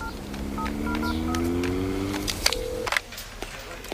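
A telephone number is dialed as a run of steady touch-tone beeps, close and clear, followed by a couple of clicks and a low buzz, with no talking.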